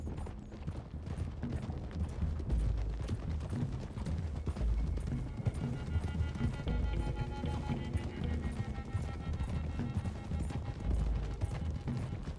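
Horses gallop in the Red Dead Redemption 2 video game, with rapid, continuous clip-clop hoofbeats from several animals, fairly close and steady, mixed with faint game ambience.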